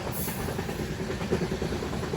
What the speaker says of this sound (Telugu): మెమో బండి క్రాస్ ఓవర్ ఇప్పుడు వెళ్ళింది కదా